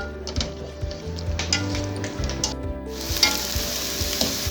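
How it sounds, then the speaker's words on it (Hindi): Onions sizzle steadily in hot oil in a home kitchen pan, a dense continuous crackle close by with occasional stirring scrapes and clinks, no voices. "इसी ऑयल में मैं अनियन को डालूंगी।"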